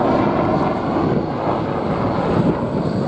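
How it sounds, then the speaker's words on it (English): A newly built military helicopter in Army and Navy service flies at the Abingdon 2023 air show, its steady rotor and engine roar loud and continuous throughout, with broadband wash and no speech. "but in reality is an entirely new helicopter"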